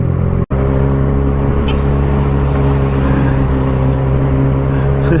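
A Benelli 600 motorcycle fitted with a Yoshimura exhaust runs steadily and loud and close, its deep engine drone holding level after a brief cut at the start.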